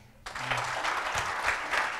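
A church congregation breaks into applause at a gospel service, the clapping starting abruptly and holding steady at moderate loudness, a little distant in a large room.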